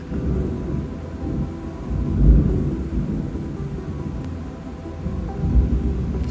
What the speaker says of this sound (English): but it is thundering.